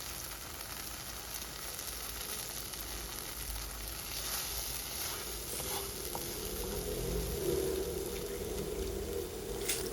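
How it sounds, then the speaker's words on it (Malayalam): Four eggs fry in a pan beside sautéed ingredients for a quick biryani, giving a steady, close hiss with faint clinks and no voices. "ഇതിലേക്ക് നമുക്കൊരു 4 മുട്ട ഒഴിച്ചു കൊടുക്കാം"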